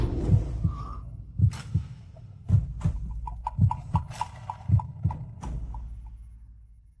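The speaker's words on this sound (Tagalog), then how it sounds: "Bakit ang bilis ng tibok ng puso mo?" A fast heartbeat sound effect in a historical royal drama, with a steady run of deep, thumping double beats, close and prominent, with a faint tonal hum behind it.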